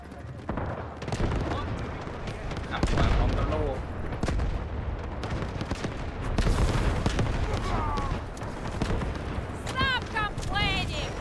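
Heavy booms and bursts of rapid gunfire fill a battle in the shooter game Delta Force, loud and dense, with a player talking and game voice lines over the explosions.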